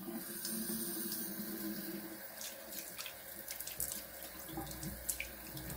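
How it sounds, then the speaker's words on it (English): Hot water gushing from a tap into a sink during a wet shave, a steady close-up rush with small splashes and drips throughout. "Trying to run the hot water there."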